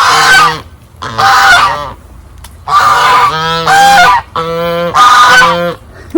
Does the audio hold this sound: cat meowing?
no